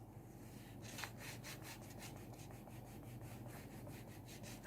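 A tool rubs patterned paper flat onto a mini album page in quick, quiet back-and-forth strokes, a soft, faint scraping rhythm heard close up with no talking.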